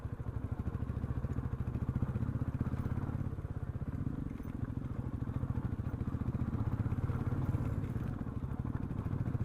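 A motorcycle engine labors steadily in first gear while climbing a hill on a North Bengal road, a rapid, even low thrum under faint background noise.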